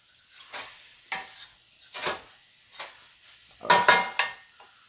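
Vegetables and noodles for vegan Shanghai noodles stirred in a cooking pot, a utensil scraping and clinking against the metal in about six separate strokes, the last few quick and close together, with a light sizzle and no talk.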